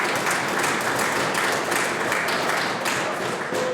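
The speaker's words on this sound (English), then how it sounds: "Everybody else in this place is clapping" Sustained applause fills a legislative chamber, many hands clapping together in a dense, continuous roar that holds a steady loudness for several seconds with no voices over it.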